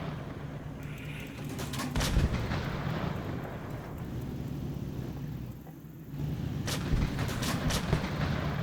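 A tank cannon fires shells in a tank video game, with several booming blasts spread over a rumbling battlefield background of distant engine noise and scattered impacts.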